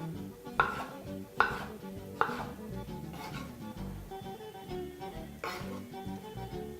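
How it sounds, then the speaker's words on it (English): A knife dices mango on a cutting board with a few soft, evenly spaced chops, then lighter irregular taps, all quiet and close with no talking. "You should be cutting that into some half-inch dices."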